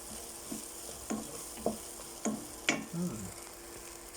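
Squash stir-frying in a pan with oyster sauce, a steady sizzle broken by several sharp scrapes and clacks of a utensil against the pan.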